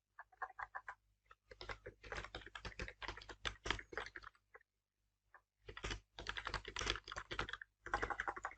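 Rapid typing on a computer keyboard as a simple command is entered, with close clicky keystroke bursts separated by brief pauses and no voice over them.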